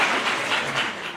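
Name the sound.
audience applause welcoming the speaker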